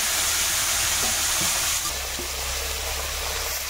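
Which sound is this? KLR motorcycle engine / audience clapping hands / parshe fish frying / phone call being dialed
parshe fish frying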